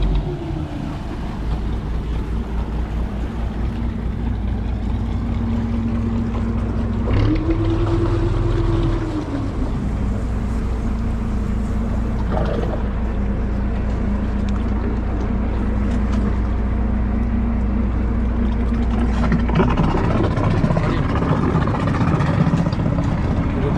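A boat engine droning steadily as the craft moves through a canal in Kuttanad, Kerala, a loud, close, continuous low rumble with wind buffeting the microphone and a brief pitch rise as the engine revs, no talk heard.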